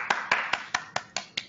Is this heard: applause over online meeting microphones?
yes